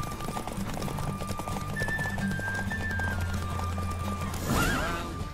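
A horse galloping in a race in The Witcher 3, with rapid, steady hoofbeats up close and a whinny near the end, all under game sound.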